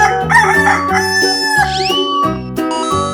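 A chicken in a 3D animal slide video game gives a loud, close cock-a-doodle-doo crow amid tonal game music notes and chiming effects, with no one speaking.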